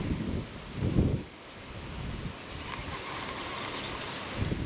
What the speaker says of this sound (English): This wind is literally coming from every direction in here.